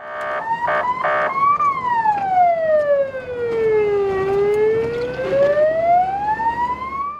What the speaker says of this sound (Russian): На служебном автомобиле включена мигалка и звуковой сигнал.